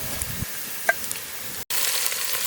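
Turmeric- and salt-coated mutton sizzles in hot oil with browned onions, a steady close frying hiss with a faint clink and a momentary drop out before the sizzle resumes.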